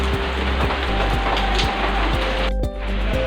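Heavy rain pours down steadily in a dense, continuous hiss, loud and close throughout, with faint rhythmic thumps beneath and no voices.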